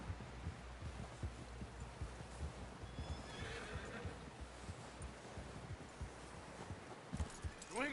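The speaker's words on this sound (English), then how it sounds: "Someone help John down off this horse." Horses in the Red Dead Redemption 2 video game whinny and clop their hooves, with busy, repeated hoofbeats throughout and a neigh in the middle, all fairly faint under game ambience.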